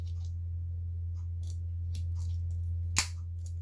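Scissors on a Victorinox Ranger Swiss Army knife snap open with one sharp metallic click near the end, heard close up over a steady low hum and a few faint rustles.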